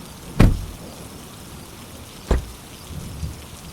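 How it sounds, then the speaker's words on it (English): Steady heavy rain hisses throughout, broken by two loud low thuds of nearby thunder and a fainter third rumble. "The rain became heavier."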